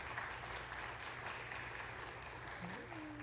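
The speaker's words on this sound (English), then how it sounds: "So I just want to just give a round of applause to that team." Faint, sustained applause from a conference audience at a keynote address, a continuous low wash of clapping with a murmur of voices underneath.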